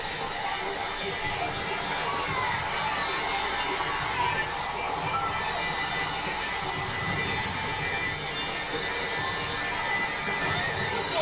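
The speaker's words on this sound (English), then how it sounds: "they're cheering the hell out of John Cena" A wrestling arena crowd cheers for John Cena, a broad, steady roar of many voices heard from a distance, continuous and fairly faint throughout.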